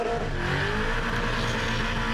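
A loud car engine revs hard and steadily during a smoky burnout at the Summernats burnout competition in Australia, roaring continuously at close range with a rough, throaty tone throughout.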